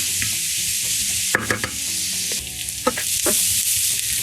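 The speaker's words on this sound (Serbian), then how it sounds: "Nastavljamo da pržimo dok sva voda ne ispari." Onion frying in a pan over medium heat, its salted juices cooking off: a constant bright sizzle broken by several sharp scrapes and knocks of a stirring spoon against the pan.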